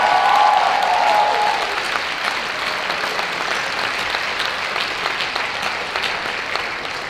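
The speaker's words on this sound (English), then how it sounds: "give a big round of applause to every other woman from other continents" Delegates at the opening ceremony of a world conference on women's shelters break into applause, sustained crowd clapping that holds at an even level after a brief loud start.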